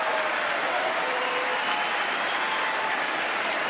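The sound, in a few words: audience applauding and cheering during State of the Union speech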